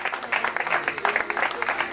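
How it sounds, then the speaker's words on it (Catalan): Spectators applaud at an outdoor race awards ceremony, a dense continuous patter of clapping from a crowd, fairly close, with indistinct voices mixed underneath. "Bon aplaudiment, perquè és una cursa ben dura"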